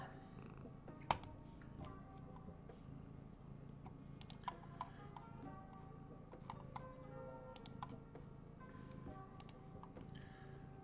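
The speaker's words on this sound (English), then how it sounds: "This cat really wants attention. Rubbing my face." A cat purrs softly and steadily close by while wanting attention, a faint low rumble under scattered clicks and taps.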